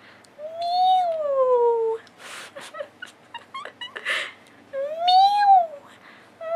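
A person imitates a cat with two drawn-out, wavering meows, separated by a stretch of soft clicks and rustling.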